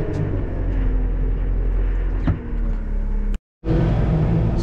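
A forklift-loading machine's engine labours steadily while trying to drive up a small mulch ramp, a loud continuous rumble with a brief dip, a sharp cutout near the end, then the engine roaring back in.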